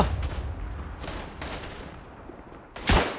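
A WWI machine gun hammers out bursts in Tannenberg, sharp rapid volleys separated by short gaps, the loudest and closest burst near the end, over rumbling battlefield background.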